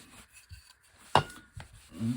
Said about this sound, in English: I'm gonna wipe a lot of that sawdust off.